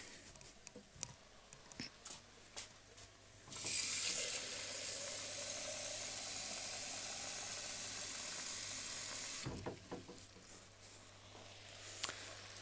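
Water runs steadily from a tap into a one-litre measuring jug for about six seconds while truffle-parsnip soup with mushrooms is being made, a loud broadband rush standing out clearly between quieter kitchen clatter and faint sizzling.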